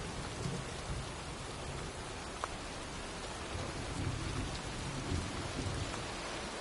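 Steady heavy rain pours with distant rolling thunder during a storm in the game Heavy Rain, a dense continuous wash with a few brief louder cracks and no voices.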